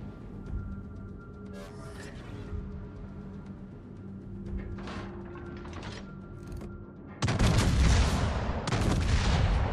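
Warship cannons firing in World of Warships naval combat, booming gun reports over a low engine drone, with a loud sustained salvo erupting near the end.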